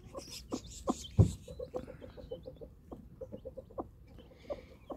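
A broody, aggressive hen near her seven-day-old chicks clucks in a steady run of short, close, repeated notes, with a couple of louder squawks early on and no talking.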